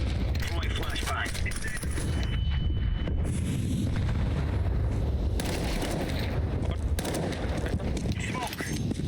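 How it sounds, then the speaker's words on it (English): Counter-Strike 2 match with a flashbang grenade and gunfire, dense loud bursts of shots and blasts over constant battle noise, with voices talking throughout. "Incendiary out. Deploying flashbang."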